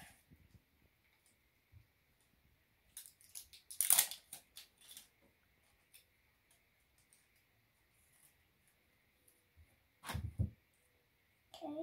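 Sharp scissors cut wrapping paper while birthday presents are wrapped at home, with a few crisp snips and paper rustles separated by long quiet gaps.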